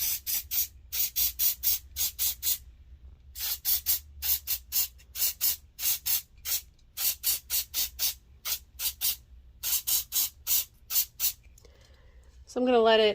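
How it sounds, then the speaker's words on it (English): Aerosol spray adhesive hisses out in a long series of short bursts from a can, sharp and close, in a steady stop-start rhythm, applied during a jewelry box refurbishment; a short squeak follows at the end. "So I'm gonna do my spray adhesive."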